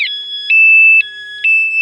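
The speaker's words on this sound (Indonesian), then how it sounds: "Nah alarm berbunyi," A Honda Beat scooter's aftermarket anti-theft alarm sounds close up, loud electronic tones that switch pitch in a repeating pattern every half second or so, with no talk.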